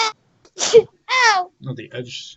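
A single loud sneeze bursts out between bits of conversation, close to the mic, with people talking just before and after it.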